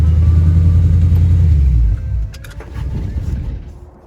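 A Chevy Coupe drives in winter, its engine a loud close low rumble that drops after about two seconds, then continues as a softer mid-pitched drone with a few brief clicks.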